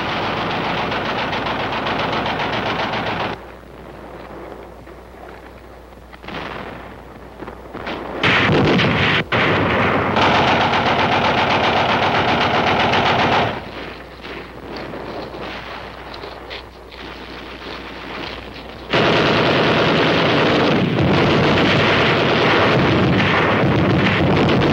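Heavy gunfire from Korean War combat, 1951, in hilly terrain: loud sustained bursts of artillery and machine-gun fire that drop back to quieter stretches and then swell again, with no voices.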